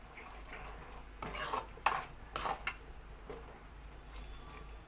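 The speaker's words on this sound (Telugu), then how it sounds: "ఇది బాగా దగ్గర పడిన దాకా ఇలా కలుపుకుంటూ ఉడికించుకోవాలండి మీడియం ఫ్లేమ్ మీద ఇవ్వండి" A spoon stirs a thickening coconut milk sweet mixture in a pan over a medium flame, giving a few scraping strokes with soft clinks against quiet background hiss.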